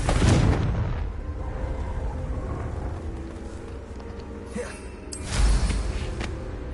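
Confringo blasting spell in the game Hogwarts Legacy: two deep booming explosions, one at the start and another a few seconds later, each with a rumbling tail over lingering low background rumble.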